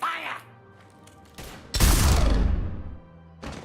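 Gunfire from Mass Effect bursts loudly for about a second after an order to open fire, with shorter shots before and after and game dialogue around it.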